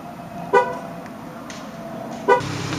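A 2010–13 Chevrolet Camaro horn chirps twice on locking, two short, bright toots about two seconds apart over a low idle-like background hum.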